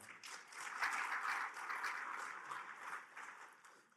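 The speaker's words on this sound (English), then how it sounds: "Let's give another round of applause for her." Audience applause fills a business summit hall, a steady wash of many hands clapping at moderate distance, swelling slightly about a second in and then holding evenly before easing off.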